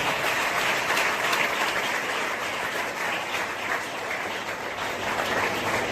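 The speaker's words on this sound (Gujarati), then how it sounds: "આવો તાળી પાડી ઈસુ મસીહ માટે" A church congregation claps together for Jesus, a dense, loud, continuous roll of applause that lasts several seconds.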